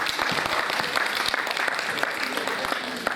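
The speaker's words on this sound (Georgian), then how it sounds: "თქვენი აპლოდისმენტები ჩემს კოლექტივს." An audience at a contest-results ceremony claps in a dense, loud burst that holds steady throughout, with a voice partly heard beneath the applause.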